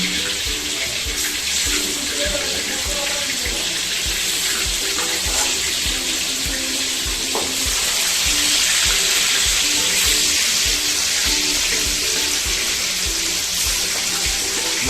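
Salted, turmeric-coated fish fry in hot oil with a loud, continuous hiss and sizzle that holds steady and swells slightly partway through, close by and without voices.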